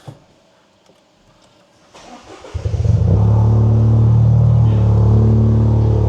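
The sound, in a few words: Toyota GR Yaris exhaust cold start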